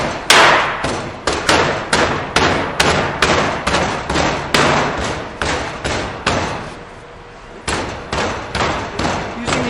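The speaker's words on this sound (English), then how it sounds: "he's using this packer in order to get the sand tight" A packer rams loose sand tight around a pattern in a sand-casting flask, producing a regular series of heavy, close thuds about every half second, with one brief pause before the strikes resume.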